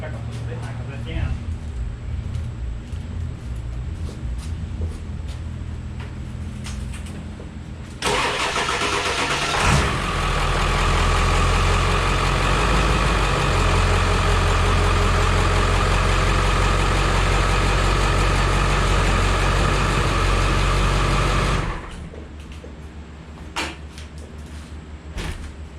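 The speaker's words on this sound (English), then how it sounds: "I'm gonna back this truck up a little bit and I can let down." A 1999 Ford F350 pickup with a 7.3 Powerstroke diesel cranks, catches and settles into a loud, steady idle for about fourteen seconds before shutting off, with quieter outdoor ambience before and after.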